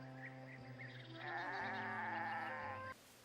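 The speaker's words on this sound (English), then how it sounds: "They're goats!" Goats bleat in a scene from the film Heidi: a run of close, wavering, nasal cries that overlap and shift in pitch for about three seconds, then cut off abruptly. No one speaks.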